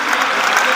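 A loud, brief burst of dense crowd applause fills an auditorium during a ceremony honouring martyrs at the Agricultural University in Faisalabad.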